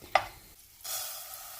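Butter dropped into a frying pan: a sharp clink first, then a steady close hiss of sizzling fat that starts abruptly and carries on evenly to the end.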